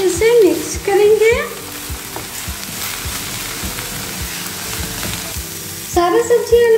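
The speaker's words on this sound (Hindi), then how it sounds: "सारा सब्जी हल्का भुन गई है" Vegetables sizzle and crackle steadily in a pan as they are lightly roasted for homemade atta pasta, with scraping stirs throughout and brief background music at the start and end.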